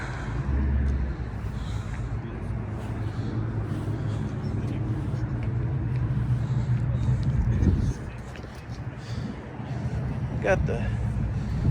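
A red and white Chevrolet Monte Carlo on Hurricane wheels idles at an outdoor car show in North Las Vegas, a steady low engine rumble mixed with wind buffeting and background voices.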